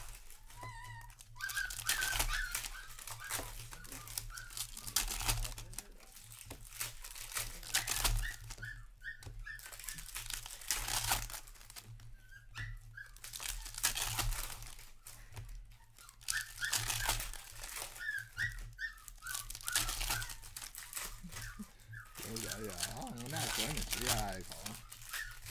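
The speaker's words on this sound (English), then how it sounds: "we'll spend the first few minutes here opening the packs" Hockey card packs from 2022-23 Upper Deck Series 1 NHL boxes are torn open, their foil wrappers crinkling and tearing repeatedly under ongoing talk, with occasional bird-like chirps in the background.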